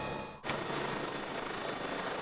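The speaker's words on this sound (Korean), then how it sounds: "헬기가 착륙하자마자" A medical emergency helicopter comes in to land at a patient handover point, its rotor and engine giving a loud, steady broadband roar that cuts in abruptly after a brief quieter moment and carries on without a break.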